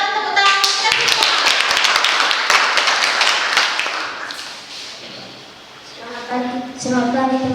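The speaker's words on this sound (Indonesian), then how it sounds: "Berikan tepuk tangan kita semua" Audience applause after a classroom presentation, a dense burst of many hands clapping close and loud for several seconds, then tapering off before voices start to speak.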